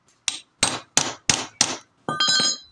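Hammer knocking on a part of an old 20-year-old Suzuki motorcycle during repair: five sharp metallic clangs with a ringing tone, then a quick double strike, loud and close.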